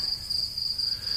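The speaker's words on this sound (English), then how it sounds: "Crickets." Crickets chirp steadily, inserted as a comedic sound effect. The high, continuous trill runs alone throughout the short moment with no voices over it.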